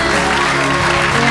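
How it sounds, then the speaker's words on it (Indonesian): Audience applause at a kindergarten graduation and arts ceremony, a dense, loud, steady burst of clapping heard for a brief moment. "Beri tepuk tangannya."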